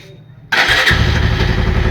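A Bajaj Pulsar 150 motorcycle with a white smoke and sound problem is self-started after a quiet moment; the engine catches abruptly and settles into a loud, steady idle close by.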